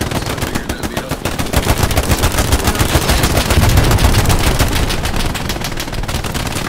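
Sustained automatic machine-gun fire in the WWII shooter Hell Let Loose, rapid continuous bursts hammering loudly and close for the whole stretch with no pauses.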